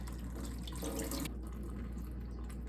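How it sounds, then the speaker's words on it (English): Filtered water poured over a strainer runs as a steady splashing stream, then cuts off abruptly partway, leaving a softer trickle and drips, with no voices. "pour some filtered water over it."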